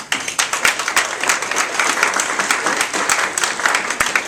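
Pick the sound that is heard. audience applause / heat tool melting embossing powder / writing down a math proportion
audience applause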